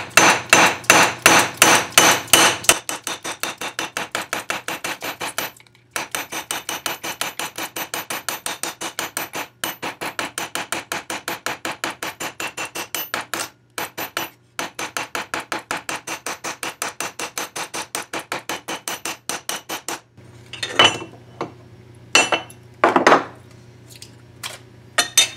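Hammer strikes texturing silver and copper metal sheets, rapid sharp metallic taps in long steady bursts with brief pauses, a few louder, slower blows at the start and end, close up and with no talking.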